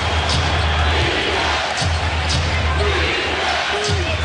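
Basketball arena crowd at a Boston Celtics versus Cleveland Cavaliers 2010 playoff game, a steady loud roar of fans urging the Celtics on defense, with rhythmic swells and ball bounces under commentary.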